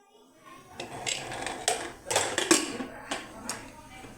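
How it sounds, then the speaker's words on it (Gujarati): A pressure cooker lid being shut in a home kitchen: a run of sharp metallic clanks and clicks of moderate loudness, close by, spread over about four seconds. "હવે આપણે કુકર બંધ કરવાનું છે તો કુકર બંધ કરી દે"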